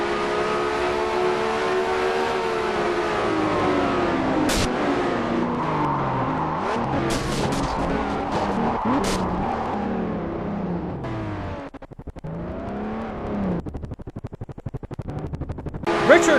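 Race cars at a Rockingham racing series event roar past one after another, engines revving and shifting loudly with rising and falling pitch, under excited commentary.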